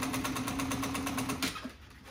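A sewing machine stitches vinyl along a butt seam, running in a fast, steady, close and loud rhythm for about a second and a half before it stops.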